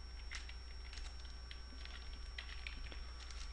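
Rapid clicking of keys on a computer keyboard while code is typed, a steady close patter with a low electrical hum underneath.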